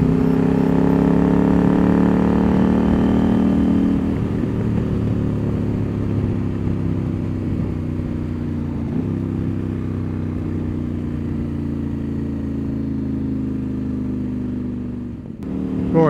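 A CFMoto 800MT Explore motorcycle fitted with a link pipe pulls away in sport mode, its engine note climbing through several rising gear pulls, loud and close at first and easing slightly as the ride goes on, with no talk.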